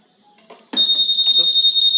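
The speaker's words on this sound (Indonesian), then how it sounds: "Jadi alarm motor ini berfungsi." A shrill Honda Vario 150 motorcycle alarm starts abruptly and holds a loud, steady high tone with pulsing warble, near and piercing, after some brief handling noise.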